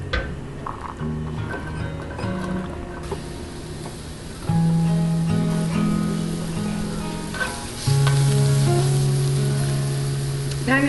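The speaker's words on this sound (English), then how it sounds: "we're gonna saute some peppers and onions with the eggs to give it a little boost" Peppers and onions sauteing in a large pan alongside eggs, giving a steady broadband sizzle that swells louder partway through, with some clinking and background tones layered over the frying.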